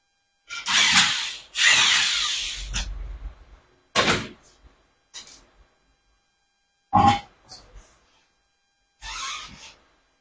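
Several loud, close bursts of a power drill or impact tool loosening the rear wheels of a Model A hot rod, a long whirring run followed by shorter separate bursts with silent gaps between them.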